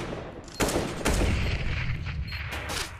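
AK rifle fire in a CS:GO match on Mirage cracks out in a few sharp bursts and single taps, with loud close shots and a quieter echoing tail between them.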